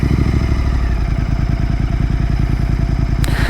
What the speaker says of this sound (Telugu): బైక్ ఎగ్జాస్ట్ నోట్ అయితే వినిపిస్తాను.